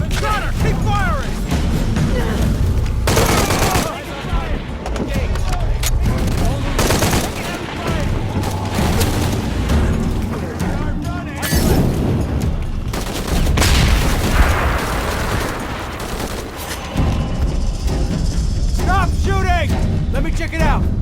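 Sustained bursts of automatic gunfire and scattered shots crackle through a firefight in Shadow of the Tomb Raider on PS4, loud and dense throughout, with brief lulls and shouted voices over the shooting.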